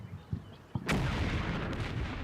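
Tank and anti-tank gun exchange in the Combat Mission: Red Thunder video game, a few soft thuds then a sharp loud cannon blast followed by a sustained rumbling roar, with no voices.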